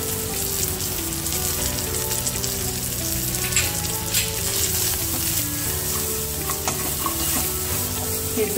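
Ground chili and asafoetida sauté in a pan with a dense, continuous sizzle and stirring scrapes, close and loud throughout, no talking, with a faint background hum.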